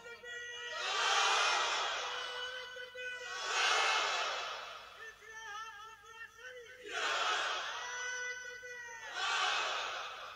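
A large crowd gathered at an outdoor Eidgah field shouts a religious chant in loud, swelling bursts, four or five waves of massed voices rising and falling in turn.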